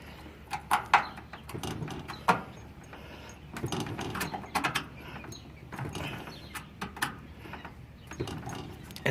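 A standard flat-head screwdriver turns a screw, giving irregular soft scraping and clicking bursts in quiet surroundings, with no talk.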